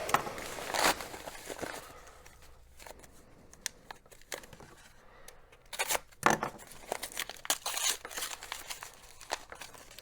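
Paper and plastic tearing and crinkling as a mail package of trading cards is ripped open, with irregular bursts of rips and rustles over ten seconds, close and fairly loud, with no talking.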